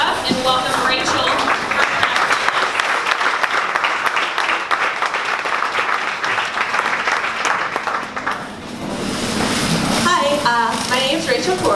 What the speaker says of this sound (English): we do have an awesome tradition here of standing up and giving a warm welcome with applause